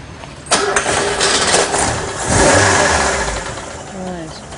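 A used car engine cranks and catches, then runs with a rough, lightly tapping idle and a brief rev, loud and close, with people talking over it.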